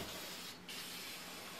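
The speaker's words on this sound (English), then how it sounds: "So I'm gonna start spraying" A spray paint can hisses steadily onto a freehand-carved redwood stop sign. The spray is a soft, continuous rush with a momentary dip partway through.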